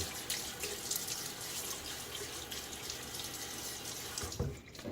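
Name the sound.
running tap water, splashing water on face before shaving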